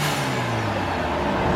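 A turbocharged BMW 328i (F30, N20 engine) vents its blow-off valve in one long, loud broadband whoosh with a falling hiss. The engine hums underneath, and no one speaks.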